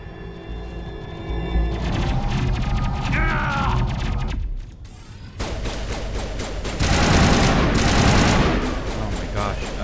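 Rapid automatic gunfire in Mass Effect Legendary Edition rattles on in sustained bursts, breaks off briefly, then resumes louder with heavy impacts.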